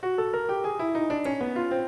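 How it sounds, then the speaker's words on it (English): A short melodic line of separate pitched notes playing the inversion of the twelve-tone row from Webern's Op. 22, at an even pace on a sustained keyboard-like instrument, moving mostly downward, with no voices. "Here's what the inversion of Webern's prime row sounds like."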